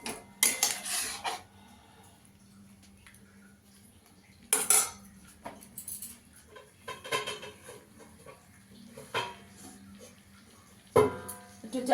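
A spoon scraping and knocking against a pan while cauliflower is stir-fried with masala for phool kopi korma: irregular metallic clatters and scrapes over a quiet background, close by, with a few louder bursts and no talking.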